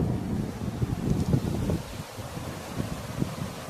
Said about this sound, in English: That was quite windy coming down and the rain's just starting to come on.